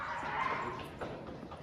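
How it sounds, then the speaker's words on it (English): Dog barking inside Combe Down Tunnel, a disused railway tunnel, heard as a few short echoing yelps and barks within a long reverberant space, fairly close and with no one talking. "turns out that ghostly scream was the dog barking."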